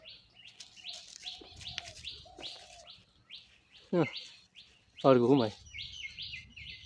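Pet pigeons kept in a village home, a run of close, repeated high chirps with a few lower throaty calls, while a voice speaks briefly in between.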